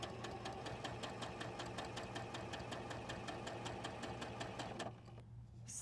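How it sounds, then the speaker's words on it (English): A sewing machine slowly stitches a quarter-inch seam on a quilt block, its needle thumping in a steady, evenly spaced rhythm over a low motor hum before it stops near the end. "I'm going to sew slowly at a nice scant quarter."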